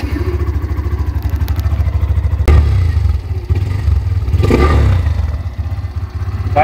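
A Hero Xtreme 125R motorcycle idling with a rapid throbbing engine pulse and exhaust note, punctuated by a couple of brief revs and clattering knocks, loud and close, with no talking.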